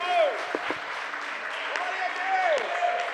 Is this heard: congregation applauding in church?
yes